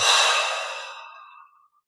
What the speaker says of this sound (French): on prend une grande inspire, on détend tout et on expire